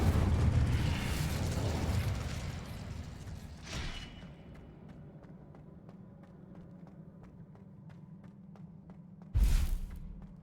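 A fiery Incendio spell cast in Hogwarts Legacy on PS5, heard as a roaring whoosh at the start, a sharp burst a few seconds in and another loud flare near the end, with quieter rhythmic ticking in between.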